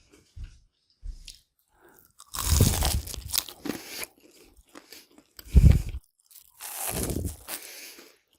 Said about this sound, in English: You gotta listen to the crunch.